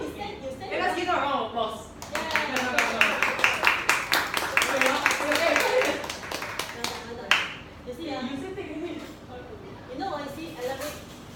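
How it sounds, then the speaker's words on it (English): A small seminar audience breaks into brisk applause. Sharp individual claps form a lively burst that peaks mid-clip and then fades. A voice talks before and after it, and speech briefly overlaps the clapping. "let's give her a round of applause"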